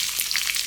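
Sliced onion sizzles steadily in hot coconut oil with mustard seeds, a brief, close, continuous frying hiss.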